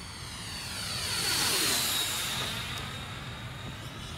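A T-45 jet with a hung-up right main landing gear makes a head-on pass, its engine roar swelling as it approaches, peaking overhead, then fading with a high whine as it moves away; no talk.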